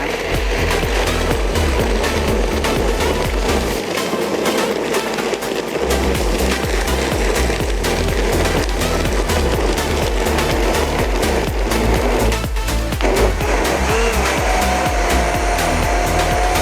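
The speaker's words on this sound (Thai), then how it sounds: "ขั้นตอนต่อไปเราก็จะปั่นเลยนะคะ" A blender whirs loudly and continuously as it purees kale into a smoothie, the motor tone wavering as the blades churn the leaves, with a brief dip partway through.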